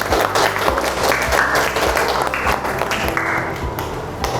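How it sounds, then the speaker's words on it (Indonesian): Loud, close clapping from a classroom of students applauding their classmates, energetic and slightly uneven with individual claps standing out, plus faint background noises. "Beri tepuk tangan buat teman-teman"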